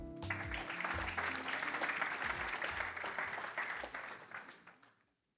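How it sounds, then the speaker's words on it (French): Audience applause at a French-language conference session closing, a dense sustained burst of clapping from a seated crowd that holds steady for about four seconds, then thins and fades out. "On peut vous applaudir bien fort"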